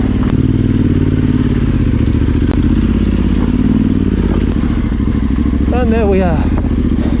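Enduro motorcycle riding a rough lane, its engine a loud, steady drone throughout with brief clatter and knocks from the uneven surface, while someone talks over it.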